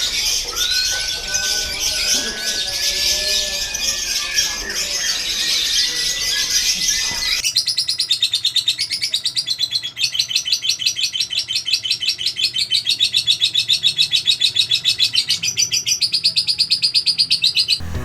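Lovebird chirping in rapid, repeated high tweets, first a busy overlapping chatter and then a steady run of sharp, evenly pulsed chirps close by, with no talking.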